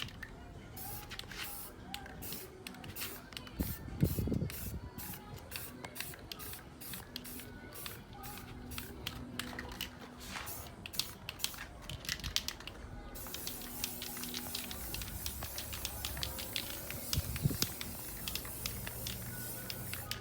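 Aerosol spray paint applied in gloss black to Infiniti Q50 3.7 rims: many short, sharp hissing bursts in rapid succession, then steadier, denser spraying with a faint low rumble underneath, close and fairly quiet.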